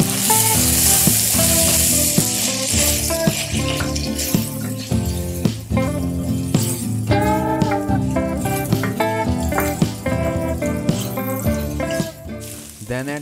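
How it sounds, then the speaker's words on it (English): Hyacinth beans (avarekalu) fry with tomatoes in a pan, giving a steady loud sizzle with stirring scrapes throughout, close up. "At this point, add the peeled Avarekalu and fry for a minute."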